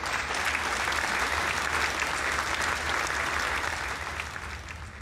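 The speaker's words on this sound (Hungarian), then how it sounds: "És taps, igen." A crowd applauds steadily for several seconds, dense clapping that fades slightly toward the end.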